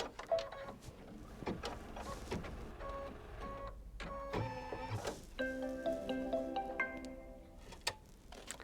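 An embroidery machine stitches the final outline on a quilt block, a steady mechanical whirring with rhythmic ticks and tonal motor whines that shift as it moves, close and moderately loud with no talking.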